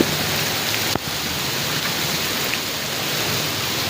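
Heavy monsoon rain pours steadily in Multan, a dense constant hiss with one sharp tap near the start and no voices.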